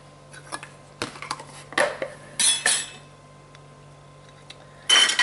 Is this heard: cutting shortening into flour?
yes